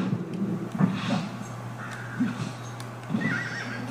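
A horse in the video game Red Dead Redemption whinnies and neighs in several loud bursts over a steady low hum, with nobody speaking.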